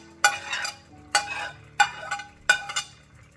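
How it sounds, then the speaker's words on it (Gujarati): Grated paneer bhurji is stirred in a pan in four distinct, evenly spaced strokes, each a close scrape with a short sizzle behind it, over an otherwise quiet background. "હવે એને હલાવી લઈશું."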